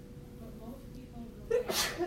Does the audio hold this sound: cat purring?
no